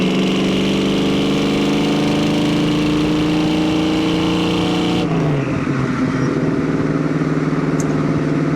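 A 1966 Ford Mustang Fastback engine on a test drive holds a steady mid-pitched drone, then the revs drop suddenly partway through as the car shifts, leaving a rougher, lower engine rumble with road noise.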